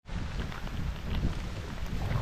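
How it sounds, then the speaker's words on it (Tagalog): Heavy rain pours steadily on a rural path near a hut, a dense, loud, continuous hiss and patter with no pauses throughout. "Ayan na, ang lakas ng ulan."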